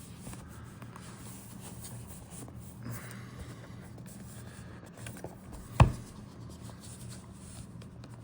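A thin dust sleeve is peeled off a new trading card game deck, giving soft scratchy plastic rustling and faint crinkling up close, with one sharp snap or tap partway through.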